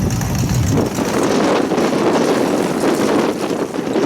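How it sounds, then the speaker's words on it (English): Loud, constant strong wind roars and buffets the microphone outdoors in a steady rumbling rush, with no voices heard. "Super windy today too, huh?"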